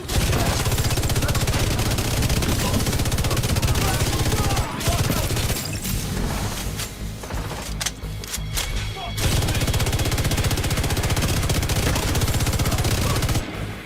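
An exotic light machine gun firing in a video game: sustained, loud automatic bursts with a rapid rate of fire, a couple of short gaps between strings of shots, and someone talking over the gunfire.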